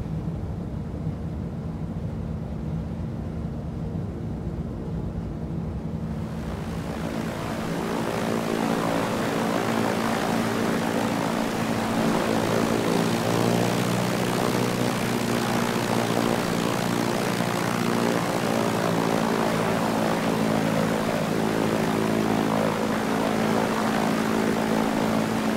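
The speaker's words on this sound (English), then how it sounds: "So now looking good on the profile, we'll get rid of the carb heat, just side slipping the aircraft at the moment" A T-6 Texan propeller aircraft in Microsoft Flight Simulator drones steadily on landing approach with gear and flaps down, the engine tone swelling louder after a few seconds and holding an even, continuous hum throughout.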